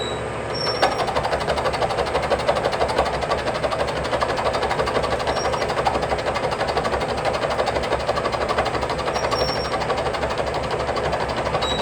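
A machining pass takes 25 thousandths off a metal part held in a vise, a loud, steady mechanical whir and chatter that runs unbroken and close throughout.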